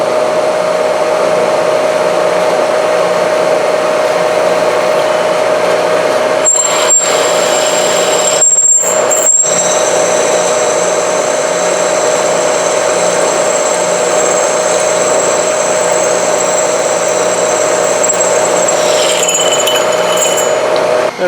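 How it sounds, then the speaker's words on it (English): A drill bores out a hole in an aluminum handwheel before it is tapped 3/8-16. A loud, steady motor drone with a thin high whine runs throughout, broken by a few short dips near the middle. "We're going to drill it out, and then we're going to tap it 3/8 16."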